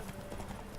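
A horse gallops in The Witcher 3: Wild Hunt, its hooves a brief burst of quick, close clip-clop beats in less than a second.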